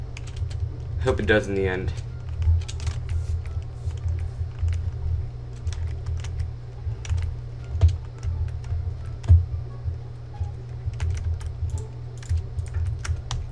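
Computer keyboard typing on a lap during a Minecraft survival game session, soft irregular key taps under a steady low hum, with someone talking briefly.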